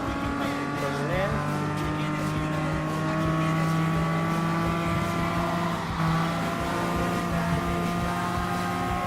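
TVR Tuscan Speed 6 racing in the video game Gran Turismo Sport, a steady high engine drone with shifting pitch and brief tire squeal, loud and continuous, with someone talking faintly underneath.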